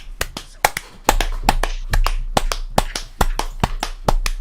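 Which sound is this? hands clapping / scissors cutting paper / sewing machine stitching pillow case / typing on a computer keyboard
hands clapping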